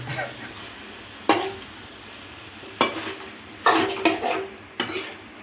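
Food being stirred in a frying pan amid a steady sizzle, with several sharp scraping strokes of a utensil against the pot at irregular intervals, close and alone.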